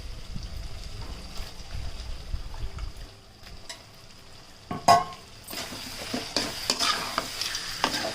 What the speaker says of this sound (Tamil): வெங்காயம் தக்காளி நல்லா வதங்கிடுச்சு. இப்போ இந்த ப்ரான் போட்டுக்கலாம்.